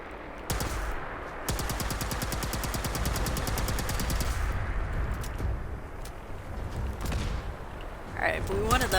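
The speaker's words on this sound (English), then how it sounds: "Let's try to find that vertibot and just shoot it down." Rapid automatic gunfire in Fallout 76 shooting down a flying vertibot, loud sustained bursts with brief pauses, a few single shots near the end, with a voice talking over the action.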